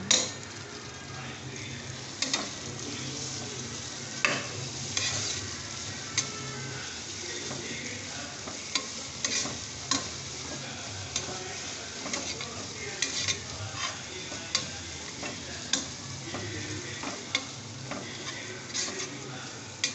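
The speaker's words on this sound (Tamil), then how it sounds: "வெங்காயத்து கூட சேர்த்து வதக்குனாக்கா நல்லா பச்சை வாசனை போகிற அளவுக்கு வதக்கிக்கோங்க" Onions sauté in a pan for samba rice chicken biryani, a steady close sizzle running the whole time, with frequent scraping strokes and small clicks from a stirring spoon.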